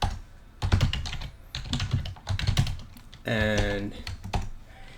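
Rapid keyboard typing on a computer while drafting a legal response to a motion, with quick clustered keystrokes close by. Someone speaks over it and between bursts.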